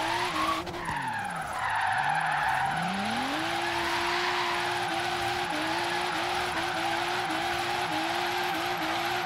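Tires squeal steadily in a video game car drift in Forza Horizon 3 on a downhill run in third gear, a loud continuous howl that dips in pitch early on, then holds high with slight wavering as the engine drones underneath.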